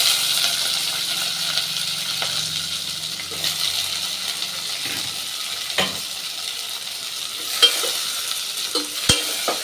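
Steady hissing sizzle of bitter gourd frying in oil, with occasional stirring scrapes and light clinks of a utensil against the pan.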